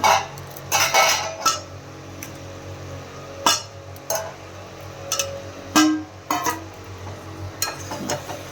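Fried potatoes are added to spiced oil in a pan and stirred, producing repeated close clinks and scrapes of a spoon against metal at an irregular pace over a low background hiss.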